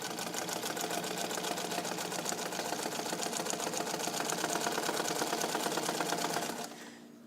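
A restored all-metal vintage Necchi BU Nova sewing machine stitching through heavy coated vinyl awning material, a fast steady mechanical chatter running close and continuous before stopping abruptly near the end.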